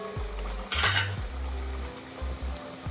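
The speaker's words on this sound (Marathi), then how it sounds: "कांदा पकोडे हलका हलका सोडा लागते, तेल खूप गरम झालेलं आहे आपलं, सोडू शकतो।" Onion pakoras frying in very hot oil with a bright burst of sizzle as they are turned, with pan and utensil clinks, the hiss settling back to a low steady bubble.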